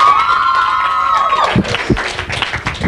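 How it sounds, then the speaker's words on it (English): A studio audience breaks into applause and cheering after a sustained held tone, with a dense wash of clapping and crowd noise filling the rest. "Please give a big round of applause for my second guest."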